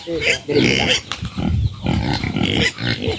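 A pig grunts and snorts at close range in a burst of rough, repeated grunts, with voices talking over and between them.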